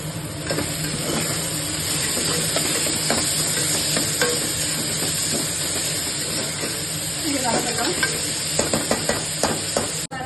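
Half a kilo of chicken and a large onion sizzle loudly in a pan of spiced oil for a dry pepper chicken, with continuous frying hiss and repeated scraping stirs that clack more often toward the end.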